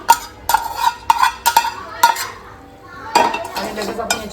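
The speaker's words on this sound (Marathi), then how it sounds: "आता आपण त्याच्यामध्ये रोस्ट केलेले हे बदाम काजू सगळं टाकून घेऊ." A metal spoon clinks and scrapes against a pan as roasted almonds and cashews are stirred into roasted rice, making a series of sharp, close, bright clatters with brief pauses.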